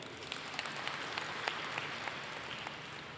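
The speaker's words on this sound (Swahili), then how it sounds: "Tujipigie makofi." Audience at a church self-help group annual meeting clapping together, a faint, steady patter of many hands continuing evenly throughout.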